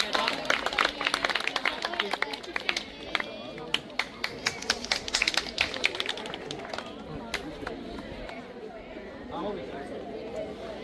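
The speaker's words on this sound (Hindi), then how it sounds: "तो जोरदार तालियों के सम्मान" Scattered clapping from a school audience honoring a teacher, uneven claps amid chatter and voices of people talking, tapering off toward the end.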